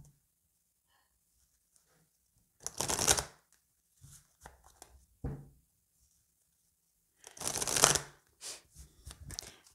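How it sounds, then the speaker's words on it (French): Oracle cards are shuffled in two distinct bursts of riffling, each followed by a few soft taps and knocks as the deck is handled, with silence between them. "on va aller voir avec l'oracle des miroirs"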